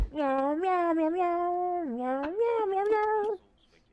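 A human voice imitates a cat, drawing out a long wavering meow that rises and falls, loud and close, then stops abruptly.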